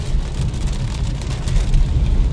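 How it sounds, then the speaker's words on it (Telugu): Rain drums steadily on a car while it is driven through a rainstorm, a dense continuous hiss over a low road rumble, with windshield wipers sweeping somewhere in the wash of sound. "ఆ వైపర్స్ సౌండ్ వాన సౌండ్ను బాగా డిస్టర్బ్ చేస్తుంది"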